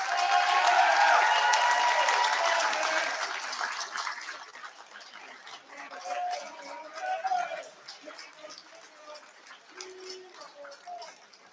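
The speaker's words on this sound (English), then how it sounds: "can you please show your appreciation for your family and friends who've supported you through your studies through a round of applause?" Graduates applaud their family and friends at an engineering and science graduation ceremony, a loud sustained crowd applause that fades after a few seconds, leaving a quieter room with scattered faint sounds and birdlike coos.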